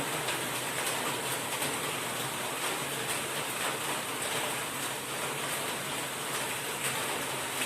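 Heavy rain pours down in Talawade during flooding, a dense, steady hiss that stays loud and unbroken throughout, with no talk.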